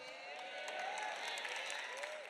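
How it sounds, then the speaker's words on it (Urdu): Sustained applause from a church congregation during a sermon on tithing, a dense steady wash of clapping from a crowd with a few voices mixed in, kept at a moderate distance and never easing off. "تالیوں کی آواز ان کی ہے جو دہ یکی دیتے ہیں"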